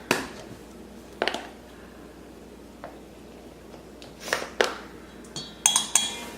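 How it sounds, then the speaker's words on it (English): A fork clinks and scrapes against a dish while stirring paprika and other spices together, with a few sharp taps near 1.2, 4.5 and 5.8 seconds and quiet stretches between. "Then I just take a fork and kind of mix it together"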